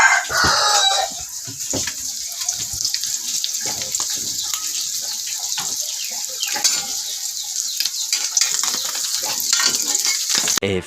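Chickens cluck and a rooster crows nearby, mixed with scattered clatter and background noise; a few voices murmur faintly now and then.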